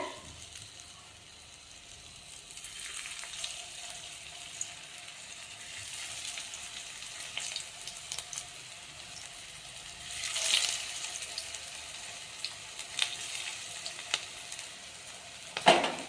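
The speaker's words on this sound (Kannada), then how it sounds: "ಈ ರೀತಿ ಒಂದ್ಸರಿ ಶಾಲು ಫ್ರೈ ಮಾಡ್ಕೋಬೇಕು. ಇವಾಗ ಈ ತವಾದಾಗ ಎಣ್ಣೆ ಕಾಯ್ದದ." A snack made from puffed rice shallow-fries in hot oil on a tawa, giving a faint, steady sizzle with a slight swell partway through and a few soft clinks.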